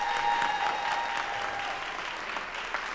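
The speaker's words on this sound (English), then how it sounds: "Now let's give both teams a round of applause for this excellent debate." A round of applause from the audience at a collegiate debate event, full, even clapping that stays strong throughout the short stretch.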